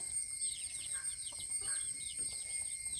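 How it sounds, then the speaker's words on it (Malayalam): Three-month-old chickens on a poultry farm give faint, scattered clucks and chirps over a steady background hum, rather distant and without speech. "ഇതൊക്കെ 3 മാസം കഴിഞ്ഞ കോഴിക്കുഞ്ഞാട്ടോ"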